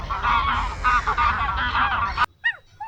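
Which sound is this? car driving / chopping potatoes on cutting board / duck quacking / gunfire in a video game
duck quacking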